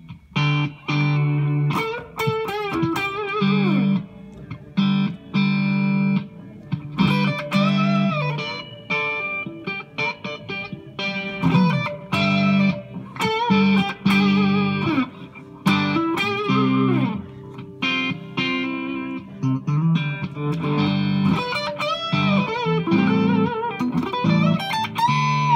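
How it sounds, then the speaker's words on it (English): A crunchy, high-gain electric guitar through a Blackstar ID Core combo amp with a British-style overdrive plays chords and bending lead lines, steady and loud with no talking. "Let's go for a crunch, fairly high gain, more of a British sort of sound."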